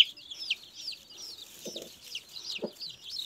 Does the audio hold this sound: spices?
no